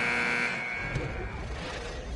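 End-of-quarter buzzer in the NBA 2K16 basketball video game, a steady electronic tone held for about half a second and fading into arena crowd noise that carries on afterward.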